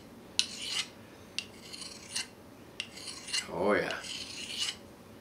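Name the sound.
sharpening knife on fine stone, removing burr from factory edge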